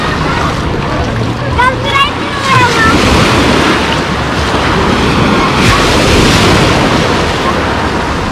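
Waves break steadily on Lazurny beach at Lazarevskoye, a continuous loud surf roar with wind buffeting the microphone, yachts and motorboats nearby, and a voice briefly audible near the start.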